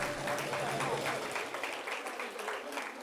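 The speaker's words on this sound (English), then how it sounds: "Let's give a round of applause" Applause at a college graduation ceremony, a steady wash of many hands clapping in a hall that carries evenly through the whole stretch, with a faint voice briefly audible near the start.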